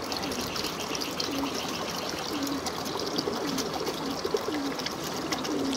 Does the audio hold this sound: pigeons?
yes